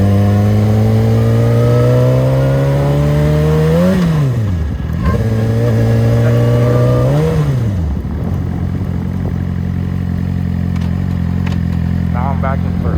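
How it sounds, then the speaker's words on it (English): A motorcycle engine revs up in first gear, dips briefly as it shifts, then climbs again in second. A rider talks over the steady engine drone on the road. "My main thing right now is I'm trying to learn how to shift more smoothly to second gear."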